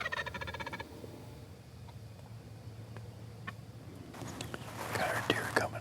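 Wild turkeys gobble and cluck close by in the woods during a hunt, with rapid gobbling bursts at the start, soft scratching and rustling, then more calls near the end.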